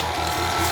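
A stand mixer fitted with a paddle attachment whirs on low speed through pound cake batter ingredients, a close, steady motor drone with a faint rhythmic hum and no pauses.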